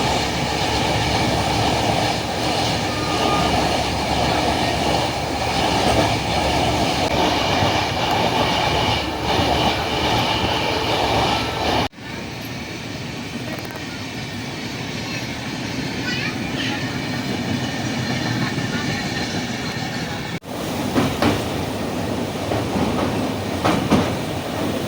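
A moving passenger train from Sealdah heard from inside, a continuous loud rumble with rhythmic clickety-clack of wheels on rail joints, the sound shifting abruptly twice as the ride goes on, with faint voices at times.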